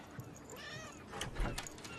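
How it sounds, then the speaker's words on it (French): A house cat meows outdoors, its drawn-out, wavering cries rising over steady background noise and closing in a louder burst near the end. "Je crois qu'il y a votre chat qui est dehors aussi."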